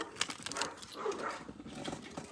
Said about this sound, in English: I hope you guys really can't hear the dogs because they are going bananas